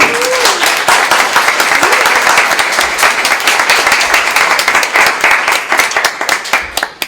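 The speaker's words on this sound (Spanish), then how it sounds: "un aplauso gigante para ella" An audience at a public-space sculpture talk gives loud, sustained applause for Silvia Westermann, with many hands clapping close and steady, thinning slightly toward the end.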